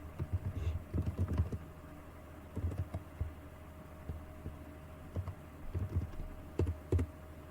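Keys on a computer keyboard clatter in short bursts of quick taps with brief pauses, close and moderately quiet over a faint steady hum.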